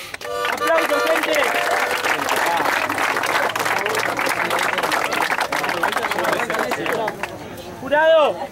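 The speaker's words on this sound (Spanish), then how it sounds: "¡Aplausos, gente!" A rap battle crowd breaks into sustained, loud applause and cheering, with crowd noise and voices running throughout and a brief burst of vocal sound rising near the end.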